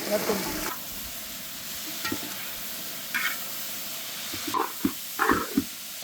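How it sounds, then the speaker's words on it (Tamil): Sliced onions and drumsticks sautéing in hot oil for a vegetarian drumstick and cashew kurma, a steady soft sizzle with occasional stirring scrapes and spoon clinks near the end. "வெங்காயமும் முருங்காவும் இந்த எண்ணெயிலேயே வதங்க வதங்க வதங்க வதங்கத்தான் குருமா ஃபுல்லாகவே இந்த முருங்காவோட ஃப்ளேவர் நம்மளுக்கு கிடைக்கும்"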